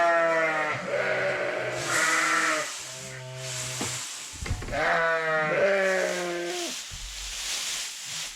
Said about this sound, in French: on va commencer de soigner les brebis et les petits agneaux